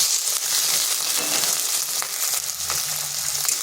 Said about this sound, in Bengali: এরপর এখানে দিয়ে দিচ্ছি চিংড়ি মাছ